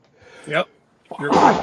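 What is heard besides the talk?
sneeze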